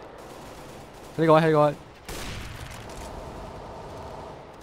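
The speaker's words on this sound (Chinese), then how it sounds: "有枪声，有枪声，好近，好近，好近，真系好近" Gunfire erupts nearby in the video game Counter-Strike: Global Offensive. A short spoken line comes first, then a sharp onset leads into a sustained, rattling burst of shots that continues to the end at moderate loudness.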